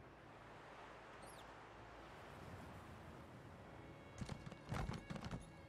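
Horse in the Elder Scrolls Online video game, with a steady wind-like ambient wash and a short burst of hoofbeats and snorting near the end, fairly faint overall.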